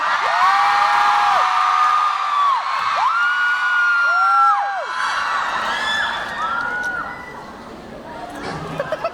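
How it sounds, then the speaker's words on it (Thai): Cheering, whoops and excited chatter rise from a crowd at a fan event, with shrill sliding whistle-like cries over the noise before it settles a little. "ขอเสียงให้กับเอสหน่อยครับ"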